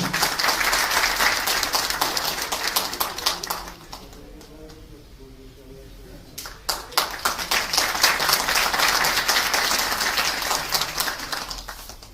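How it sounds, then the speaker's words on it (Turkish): Audience applause, loud clapping that drops away briefly in the middle, then swells again and continues steadily to the end. "Buyurun, alkışlıyoruz efendim."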